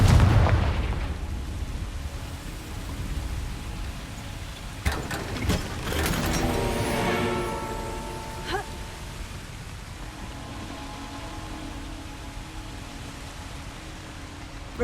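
A Confringo fire spell bursts in Hogwarts Legacy, with a heavy low boom at the start followed by sharp crackling blasts and debris mid-clip, then a fading rumble and lingering game ambience.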